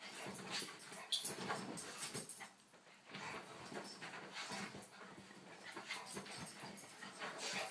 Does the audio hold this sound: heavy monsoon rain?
no